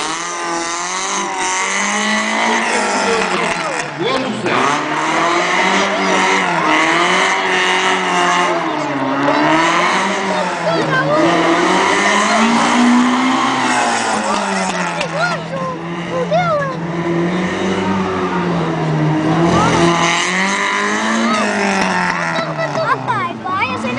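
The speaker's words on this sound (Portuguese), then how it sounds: "Ali a partida temos mais um piloto de Santa Marta de Pinhão, Fernando Rocha, aos comandos do seu Toyota" Toyota Starlet rally car at the start of a race, its engine droning and revving steadily up and down for a long stretch, loud and close, with spectator chatter in the background.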